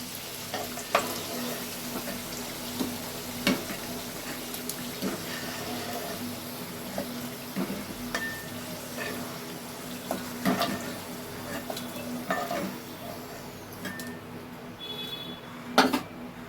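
Cauliflower florets frying in hot oil in a home kitchen, a steady soft sizzle with occasional clinks of a stirring utensil against the pan, close by and with no one talking.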